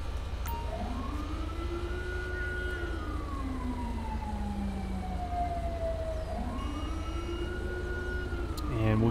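An ambulance siren in GTA V with the LSPDFR mod wails in slow rising and falling sweeps, loud and near over a low engine rumble, repeating twice before a sharper burst at the end.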